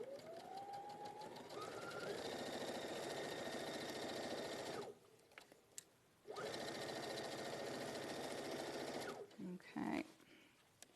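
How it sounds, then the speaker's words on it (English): A sewing machine stitches a quarter-inch fabric seam, whirring loud and steady in long runs with brief pauses and a short stop near the end, while a voice talks faintly in the background. "we're just sewing this the 1/4 inch exactly the same way"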